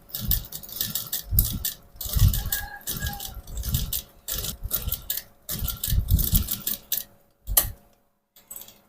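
A repaired household sewing machine runs smoothly, a steady close mechanical whir and rapid ticking in repeated bursts with brief pauses between runs and no voices.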